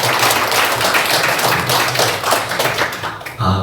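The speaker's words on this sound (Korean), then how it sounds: "우리 박수로 환영하겠습니다." A church congregation at a Sunday worship service breaks into dense, loud applause to welcome a visitor. The clapping stays steady for about three seconds, then cuts off abruptly at the end.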